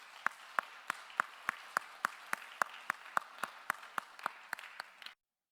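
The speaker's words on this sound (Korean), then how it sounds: "우리 함께 처음으로 예배한 지체를 위해서 박수로 환영하도록 하겠습니다" A congregation at a Sunday young adults' worship service claps to welcome a first-time member, about eighteen crisp, evenly spaced claps in a steady beat that stop abruptly after about five seconds.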